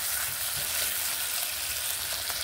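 Tomatoes stirred and fried in a pan over a medium flame, giving a steady close sizzle with faint stirring scrapes and no talking.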